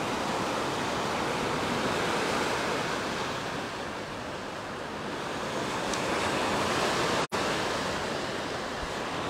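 Surf on the beach at Side, Turkey, makes a constant broad wash of waves mixed with wind rumbling against the microphone. The noise is loud and unbroken apart from one sharp momentary dropout, and there is no talking.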